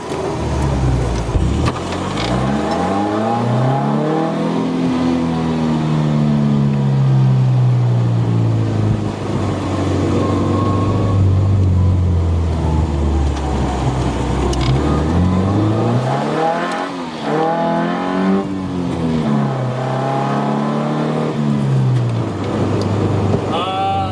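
A Porsche 914 with worn-out suspension revs hard through rising and falling gear sweeps, loud and close, with brief exclamations from a person now and then.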